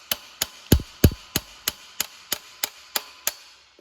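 A hammer strikes a large tap threaded into a pilot bushing on a Nissan 240SX, about a dozen sharp metallic blows at a steady, even rhythm, close and alone.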